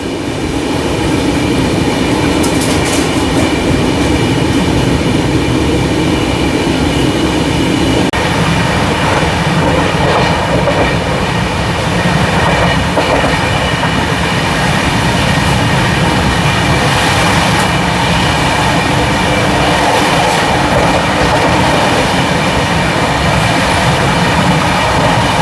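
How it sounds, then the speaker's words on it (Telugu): Steady, loud rumble and rattle from inside a Tirupati to Bhubaneswar weekly superfast express passing Simhachalam station, with continuous clickety-clack of wheels on rails and occasional faint squeals throughout. "సింహాచలం స్టేషన్ దాటేస్తున్నాం మనం"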